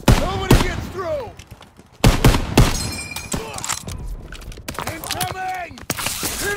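Rifle shots and machine gun bursts crack in the Call of Duty WW2 video game, sharp repeated reports over shouted voices and battlefield clatter.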